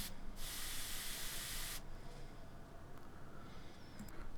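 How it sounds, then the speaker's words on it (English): An airbrush gives a sharp, bright burst of air for just over a second, then stops, leaving quiet room noise with a few faint ticks. "To release air, we push down on the airbrush trigger"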